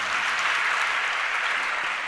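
A gathered audience claps together at a religious discourse, producing a dense, even wash of applause that holds steady and loud for the whole stretch, with no talking.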